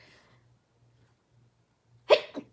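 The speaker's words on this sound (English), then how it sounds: "I'm going to sneeze, just a sec." A single sharp sneeze bursts out after a near-silent pause with a faint low hum, loud and close, followed by a brief second gasp.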